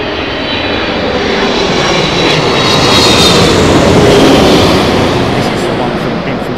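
An airliner arriving at Heathrow roars steadily overhead, loud and close, its broadband engine noise swelling slightly toward the middle and then easing, with no talking.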